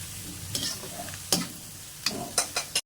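Noodles frying in a pan with chili paste being stirred in for mee goreng, giving a steady sizzle broken by several sharp scraping stir strokes, close and fairly loud, with no talking.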